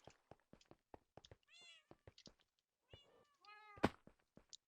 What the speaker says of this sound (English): There's not just one noisy cat.